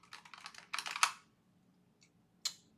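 Typing on a computer keyboard during late-night work in a level editor, a close, quiet burst of rapid clicky keystrokes followed by a pause and a few isolated key taps.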